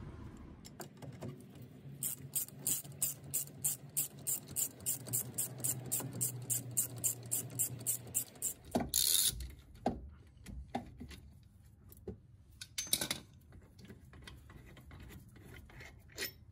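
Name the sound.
ratchet wrench loosening brake caliper bolts on Porsche Boxster S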